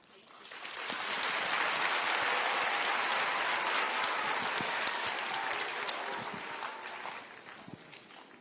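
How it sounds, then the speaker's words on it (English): Audience applause at the installation of the patron of the Kenya Girl Guides Association, swelling quickly from quiet into sustained dense clapping, holding steady, then tapering slightly toward the end. "Let us give another round of applause to the Patron, Her Excellency."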